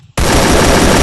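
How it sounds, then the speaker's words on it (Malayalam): Loud, close burst of automatic gunfire from the Free Fire mobile shooting game, starting abruptly after a brief quiet moment and continuing as a dense, sustained rattle to the end. "അവന്റെ ഒരു ആകാശ വെടി"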